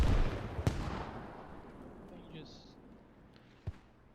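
Grenades burst in the Squad video game, a couple of distant booms, one near the start and another toward the end, separated by low rumbling battlefield ambience.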